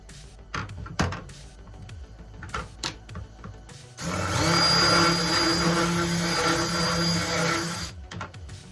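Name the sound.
light sanding to clean up cut marks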